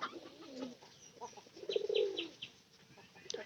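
A white pigeon gives a soft, rolling coo near a house front. The single call is brief and fairly faint against quiet outdoor background noise, with a few faint chirps around it.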